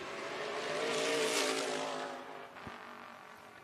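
A race car qualifying on a speedway at the Miller 100 roars past, swelling loud then fading into the distance, followed by a brief sharp thump.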